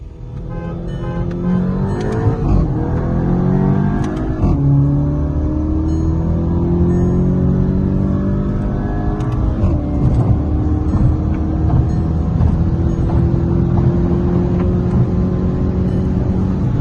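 Two Skoda Octavias, a VRS and a 1.8 TSI, accelerate hard side by side in a roll race, engines rising through the gears with steady loud droning and a clear upshift partway through, no voices over it.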